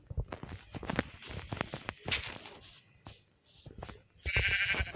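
Several sheep bleat close by in short, overlapping calls, with light shuffling and hoof steps on the ground between them.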